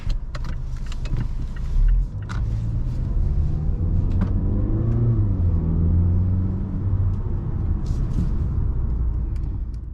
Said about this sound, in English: let's get this acceleration run going